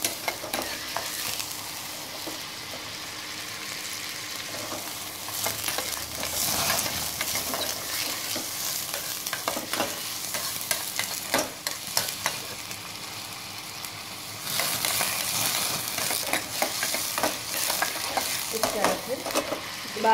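Cream fries in a pan for a dal tadka while being stirred, giving a continuous loud sizzling hiss broken by repeated scraping strokes of the spoon, with no talking.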